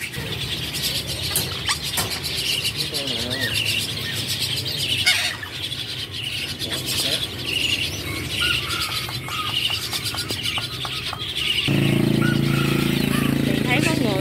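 Caged songbirds in a pet bird shop chirp and squeal in bursts over a busy background, while people talk throughout and a louder hum rises toward the end.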